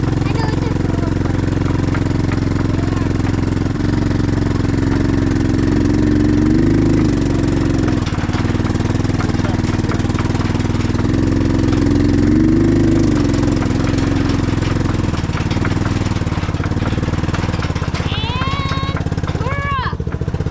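A Cub Cadet 1170 lawn tractor with a bad transmission drives up a hill, its engine droning loud and close in a continuous rough hum that rises and falls slightly with load.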